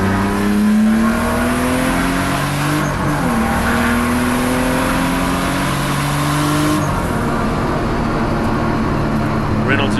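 BMW 328i Turbo race cars competing at Kyalami circuit, engines loud and sustained with shifting gear-change pitches as cars race toward the line, under a commentator talking throughout.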